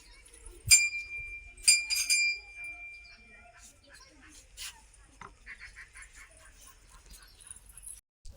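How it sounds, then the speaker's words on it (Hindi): A bell rings at a famous Devi temple in Mungeli: three bright metallic strikes near the start, each with a ringing shimmer, followed by softer scattered clinks and faint background activity. "हम तो घंटी बजा रहे थे"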